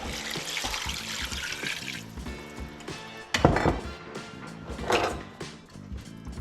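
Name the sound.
pouring water into pot of sauce piquant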